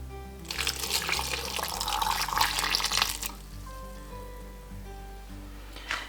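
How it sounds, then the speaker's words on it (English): Pickle brine poured into a glass jar in a kitchen: a steady, close splashing pour of liquid for about three seconds, then a quiet room with a brief soft trickle near the end. "make sure that you're letting the liquid get into all the spaces of the jar"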